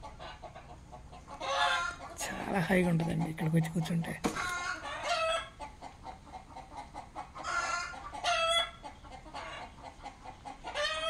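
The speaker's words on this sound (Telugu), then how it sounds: "మార్నింగ్ అవర్స్, రకరకాల పిట్టలు సౌండ్స్" Chickens cluck and a rooster crows in the morning on a natural farm, the calls coming in repeated bursts nearby while someone talks calmly in between.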